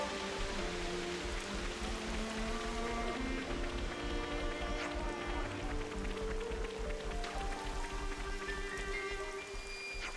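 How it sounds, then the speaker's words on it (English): Steady rain patters continuously on a surface in Xenoblade Chronicles 3, a dense hiss with scattered drops, while soft tonal music plays along underneath. "Rain, how inconvenient."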